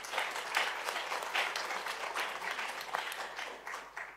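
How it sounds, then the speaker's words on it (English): Audience applause for a speaker at a formal conversation event with a former head of state, a few seconds of soft, continuous clapping from a modest crowd, somewhat distant. "Please give His Excellency another clap."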